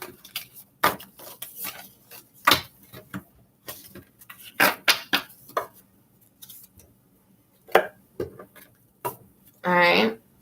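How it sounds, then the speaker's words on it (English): Tarot cards being shuffled and mixed by hand, heard as a series of light, dry taps and flicks in uneven bursts, ending in a brief louder riffle, with a soft voice murmuring now and then. "Mix my cards up."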